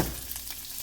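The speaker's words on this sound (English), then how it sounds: "Let that simmer." Bacon sizzles softly in a pan, a faint, steady crackle with tiny pops across a brief moment.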